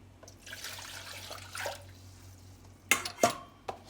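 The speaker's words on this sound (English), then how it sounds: "I'm going to go in and add about 2 more cups of water into my" Water pours from a container into a cooking pot of rice and pigeon peas in a soft, steady splash. A few sharp metallic clinks follow near the end.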